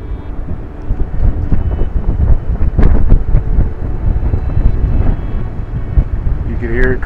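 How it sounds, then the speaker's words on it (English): Wind rushes and buffets loudly against the microphone in a storm-damaged pine plantation, swelling into a strong gust midway with a rumbling low roar throughout. "Here comes a gust."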